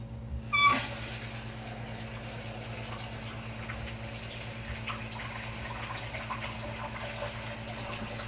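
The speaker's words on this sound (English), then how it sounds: "Now we can go ahead and turn the water back on and check for leaks." A toilet's water supply is turned back on and the tank fills, with a steady hiss of running water after a brief click at the start, close and continuous.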